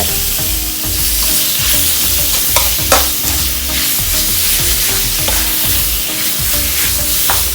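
Beef and pickled bamboo shoots stir-fry loudly in a hot pan outdoors, a continuous close sizzle with repeated scraping strokes of the spatula and occasional clinks, no voices.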